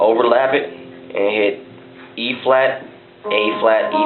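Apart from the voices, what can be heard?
No everyday noise stands out behind the speech.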